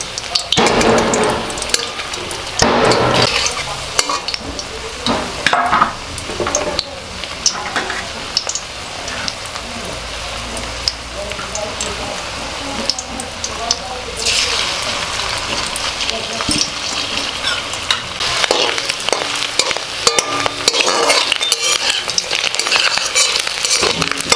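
Potatoes for aloo dum sizzle and fry in a pan, with repeated scraping and clattering as they are stirred, loud and close, while a voice talks intermittently over the cooking.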